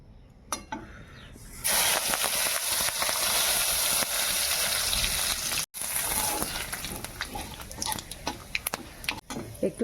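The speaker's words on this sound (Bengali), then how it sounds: "একটু পাঁচফোড়ন, একটু জিরে, গোটা জিরে, একটু তেজপাতা আর কটা শুকনো লঙ্কা আমি এই তেলের মধ্যে ফোড়ন দেবো" Panch phoron, whole cumin, bay leaf and dried red chillies hit hot oil for tempering in a Bengali lau chingri dish, setting off a sudden, loud, close sizzle that hisses steadily with occasional spatters and pops.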